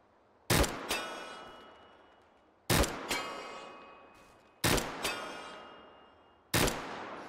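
An HK G11 rifle in the VR game H3VR fires four separate three-round bursts, each a sharp, loud, tightly packed crack with a ringing tail, spaced about two seconds apart, with no talk.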